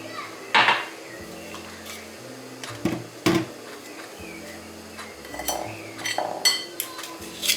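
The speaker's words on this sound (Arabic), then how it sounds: "نضربو بالعقل باش ما يطيرش علينا السكر" Butter and sugar are beaten gently in a bowl with a utensil, producing irregular clinks and knocks of varying strength, some close and sharp, others softer, scattered throughout.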